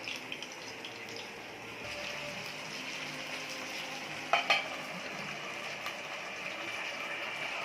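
Marinated fish deep frying in oil in a pan, a steady broadband sizzle with a brief sharper crackle burst midway, moderately loud and unbroken throughout.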